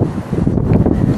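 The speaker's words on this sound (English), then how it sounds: "It's a little windy today, which I hate." Steady wind buffets the microphone, a dense low rumble with gusty swells and no other sounds standing out.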